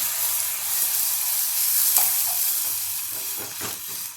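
Water poured into hot oil on a high gas flame sets off a steady, bright sizzle and hiss that swells and lingers for several seconds, close and alone with no talking.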